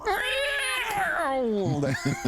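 During a Rifts tabletop role-playing session, a man imitates a screaming cat howl with his voice. It is a long, wavering, descending yowl that ends in a few short, choppy cries.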